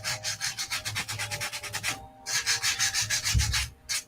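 Sanding stick rubbed back and forth over a small hobby-model part, a steady run of quick scratchy strokes, a brief pause near the middle, then more strokes, close and alone with no talking.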